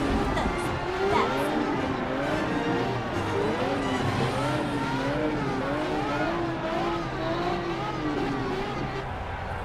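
Racing cars from the Cars Fast as Lightning video game, a steady engine drone with rising and falling revs throughout, occasional tire squeal, with a voice talking over it.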